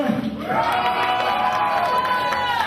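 Metal concert crowd in a club cheering, whooping and applauding after a band's set, a dense sustained roar of voices and clapping close by, with shouts rising over it throughout.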